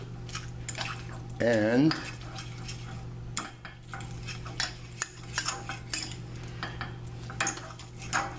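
Ricotta filling stirred with fresh basil and lemon juice for zucchini wheels, a utensil clinking and scraping irregularly against a bowl, with a short spoken word near the start.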